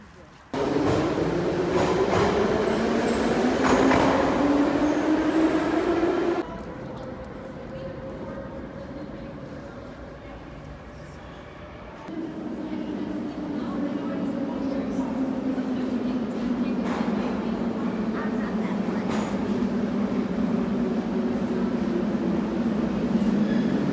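A Russian-era train in Kazakhstan rumbles along with a rising, droning whine that dips midway and then swells again, while people talk over it.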